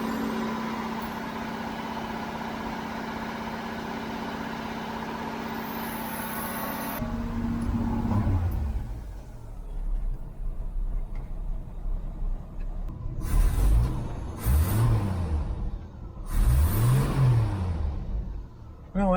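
Idling engine of a Jeep CJ-7 with the choke on, a steady low rumble running throughout, joined later by a few louder rough bursts and knocks up close.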